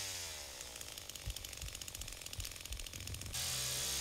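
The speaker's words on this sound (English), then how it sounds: "Is there a point in stopping the chainsaw, like, ever?" A chainsaw revs and buzzes in the Texas Chainsaw Massacre video game, a faint, distant mechanical snarl with sputtering pulses, ending in a brighter hiss.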